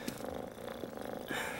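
A cat purrs softly and close by in a quiet room, a low rhythmic rumble pulsing steadily through the short stretch with no talking over it.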